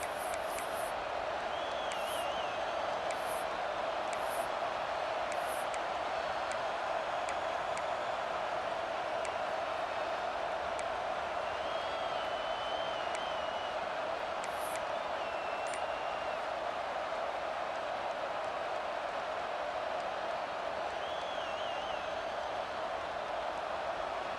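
Stadium crowd noise in the EA Sports College Football 26 video game forms a steady, dense roar throughout, with scattered whistles and shouts on top and faint speech at times.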